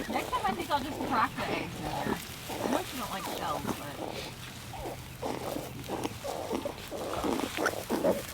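Newborn pastured Kune Kune piglets give a run of short grunts and oinks, close and fairly soft, in uneven bursts, while a person speaks quietly at times.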